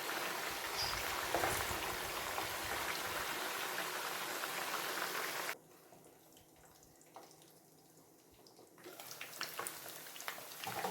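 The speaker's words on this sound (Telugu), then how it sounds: "ఇది ఎర్రగా రావాలండి ఎర్రగా ఫ్రై అయితేనే బాగుంటుంది" Chili-powder-coated raw fish fries in hot oil, a loud, steady hiss and crackle that drops off abruptly to a quiet bubbling before the sizzle builds again.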